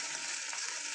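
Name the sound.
onion and egg frying in a pan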